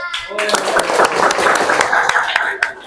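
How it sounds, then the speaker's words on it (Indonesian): Classroom applause from fourth-grade students after a group's poem reading, dense close clapping from many hands with some voices mixed in, fading near the end. "Mari kita berikan tepuk tangan"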